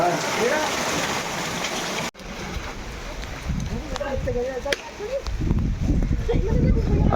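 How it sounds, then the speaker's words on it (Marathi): Heavy monsoon rain falls steadily on the road from Dahanu to Valsad, a dense broadband hiss that drops out briefly and returns rougher and closer, with wind buffeting and low rumble of travel beneath it. "जोरदार पाऊस चालू आहे"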